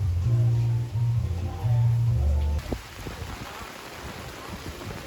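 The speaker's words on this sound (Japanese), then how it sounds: "外は大雨です。" Heavy rain pours outside on a street in Vietnam, a broad steady hiss that is partly covered at first by a low droning hum, then continues alone and even.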